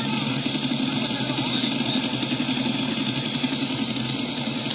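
Police helicopter flying in the game GTA IV, a continuous close rotor and engine drone with a rapid rhythmic chop, steady and loud throughout.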